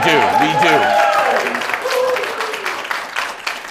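Minnesota audience breaking into applause, a dense burst of clapping mixed with voices that fades gradually over a few seconds.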